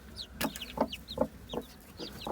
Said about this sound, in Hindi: एक छोटा सा चूजा मैंने पकड़ा पकड़ा है।